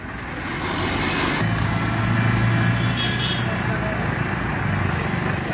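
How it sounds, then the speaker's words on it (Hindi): A vehicle engine starts and idles steadily beside a tractor pulling a rotavator, a continuous close motor rumble filling the scene outdoors. "और ये भी अपनी गाड़ी स्टार्ट कर रहे हैं।"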